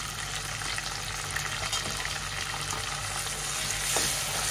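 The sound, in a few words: tomatoes and onion sautéing in a pan on high flame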